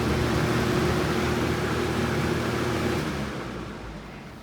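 A Lasko fan that has just been lubricated spins down from high speed, a steady broadband whoosh of moving air that fades gradually as the blades slow.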